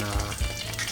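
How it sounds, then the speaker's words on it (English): Egg white frying in a hot pan, a brief burst of steady crackling sizzle heard close up with no talking. "I'm frying the egg white first"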